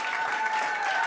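A comedy club audience at a Bushwick Book Club show in Seattle applauds, a brief, dense wash of clapping with faint crowd noise.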